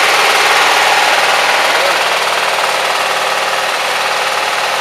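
A tractor engine runs steadily with a loud, buzzing drone and a rapid knocking pulse. Its carburetor has no float and the choke is partly closed, and the engine keeps running without a break for the whole stretch.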